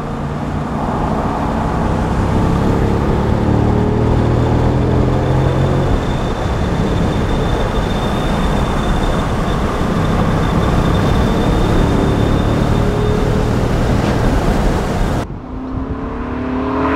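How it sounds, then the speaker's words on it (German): A 2003 BMW Z8 roadster with a V8 engine roars steadily and loudly for a long stretch as it accelerates, then the sound drops off abruptly near the end. "der rauscht ganz schön ab. Eine ganz agile 8-Zylinder-Maschine."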